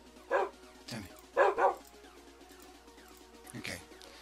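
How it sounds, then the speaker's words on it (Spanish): Several dogs in a survival video game bark in short separate bursts, with a couple of yips spaced a second or two apart over a steady ambient background. "Aquí hay mucho, mucho perrito."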